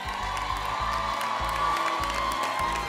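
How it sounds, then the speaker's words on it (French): An audience applauds and cheers at an award announcement for a winning couple, a dense, steady roar of clapping and shouts with a few whoops, sustained throughout. "On peut l'applaudir."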